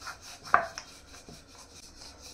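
A rolling pin works shankarpali dough on a board, giving soft, quiet rubbing strokes with a brief wooden knock near the start.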